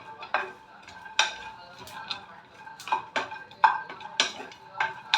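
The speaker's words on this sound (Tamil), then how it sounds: "இப்போ இதெல்லாம் ஓரளவுக்கு நல்லாவே வறுபட்டுருச்சு." Millets roast in a pan as a metal spoon scrapes and clinks against it, giving a steady series of sharp, close taps and scrapes at roughly half-second intervals over a faint sizzle.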